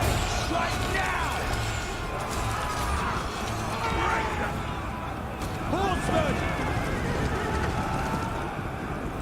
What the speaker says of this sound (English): Drive the horses! Kick your steeds!